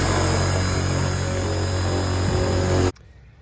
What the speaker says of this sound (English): I am drilling through metal